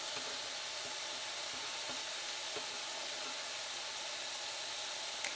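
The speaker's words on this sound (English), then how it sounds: "I'm going to turn that skillet heat up just a little bit because I want to get some browning going on" Ground beef browns in a hot skillet, giving off a constant close sizzle and hiss with faint crackles throughout, no talking.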